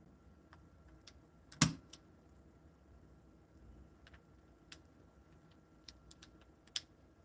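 Sparse keystrokes on a mechanical keyboard built from a KBDcraft Lego kit with the case not fully installed, one sharper clack followed by scattered lighter clicks, faint and close.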